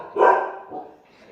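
A dog barks once loudly and close, followed by a softer second yelp, in a family setting with a small boy who is frightened of the dog.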